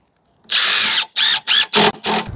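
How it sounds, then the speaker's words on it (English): A power drill drives screws into a wooden owl box in a garden workshop: one long whirring burst followed by four shorter close, loud pulses, with no talk. "I'm gonna put a few more screws in"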